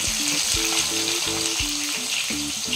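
Onion slices frying in hot oil with whole spices for a chicken curry, a steady close sizzle with some stirring clatter throughout, no talking.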